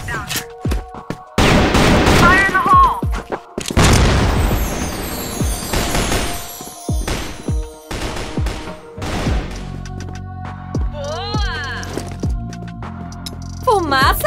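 Explosions and heavy gunfire from an online shooter video game, with a thrown grenade bursting amid loud booming blasts and rapid shots, while players talk excitedly over the action.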